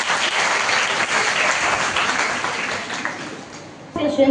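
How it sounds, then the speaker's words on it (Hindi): An audience at a school Hindi extempore speaking competition for Class 7 gives hearty applause, a full burst of clapping that fades away before a voice starts speaking at the very end. "चलिए एक बार जोरदार तालियां बजाते हैं।"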